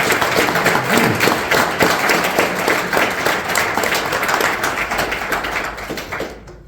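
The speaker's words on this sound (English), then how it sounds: "Big applause." A small audience at a technology meetup claps briskly for a speaker. Dense, crisp clapping continues for several seconds before it quickly fades out, with no talking over it.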